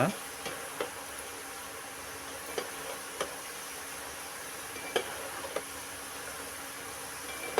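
Tene mithayi sweet dough frying in oil while being stirred, a soft continuous sizzle broken by several light scrapes and taps of the spoon, quiet and close.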